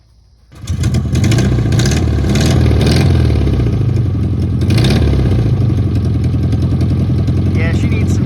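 Old VW Baja Bug engine, needing new piston rings, running on its first start in 46 years: it catches after a quiet moment, then runs loud, close and steady with a rough, clattering idle throughout.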